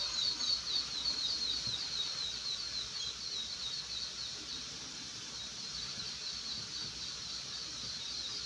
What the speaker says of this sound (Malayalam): രാവിലെ ആയിക്കഴിഞ്ഞ് ഈ കരിയിലക്കിളികൾ ഇങ്ങനെ വന്ന് കിളി കിളി കിളി ഇങ്ങനെ പറയും,